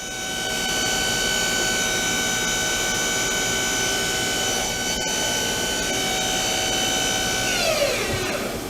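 Nakamura Tome WTS150 CNC lathe from 2004, spindle spinning at about 2,500 RPM, a loud steady high whine with layered tones that holds throughout, then sweeps down near the end as it slows.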